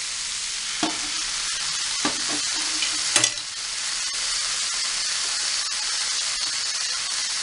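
Cabbage and carrot being stirred and sautéed in a pan with soy sauce, a steady close sizzle and hiss with a few scraping spatula clacks, no talking.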